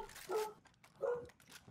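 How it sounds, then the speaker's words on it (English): A dog barks twice, two separate short barks at moderate distance about a second apart, with quiet background and faint other sounds between. "Oh, my dogs are barking again."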